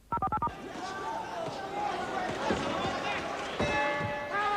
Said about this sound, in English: There's the bell to end the second.